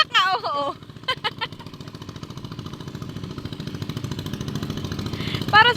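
Farm machine engine running in a rice field, a low chugging putter steady throughout and growing slightly louder, with brief whistle-like calls and noises at the start and end.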